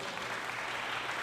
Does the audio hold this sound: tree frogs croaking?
no